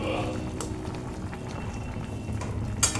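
Poppy seed paste curry simmering in a pan, a soft, continuous bubbling and popping close by, with a small splash near the end.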